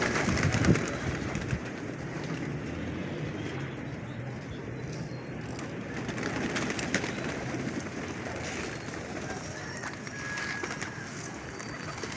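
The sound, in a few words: flock of pigeons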